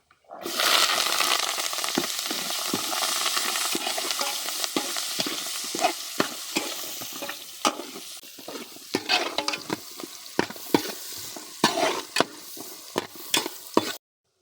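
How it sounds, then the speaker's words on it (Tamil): Onions, whole crushed garlic and curry leaves sautéing in a pan for a village-style dry fish curry, a loud continuous sizzle with frequent sharp spoon scrapes and stirring knocks, heard up close without talk. "நல்லா வெங்காயம் பொன்னிறமாக வதங்கிடுச்சு."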